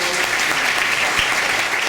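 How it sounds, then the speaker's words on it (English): Applause from the audience at a Rotary gathering, a dense, steady burst of many hands clapping close by, continuous and fairly loud for a couple of seconds. "And you may give your applause to these."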